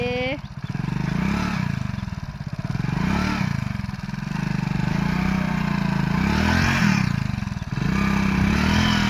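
A motorcycle engine runs close by, revving up and down in repeated surges with rattling and scraping from the bike as it slips on mud.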